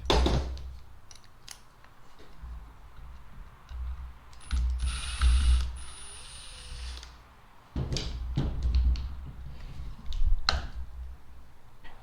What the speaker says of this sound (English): So let's remove the cover.